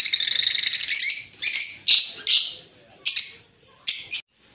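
Caged lovebirds, including lutino and rosy-faced birds, give a run of shrill chirps and squawks, first a rapid buzzing trill, then several short separate bursts close by, with no voices.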